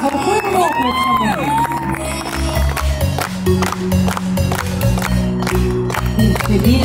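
Wedding guests clapping as champagne is poured at a wedding celebration, the applause mixed under loud music and crowd noise throughout.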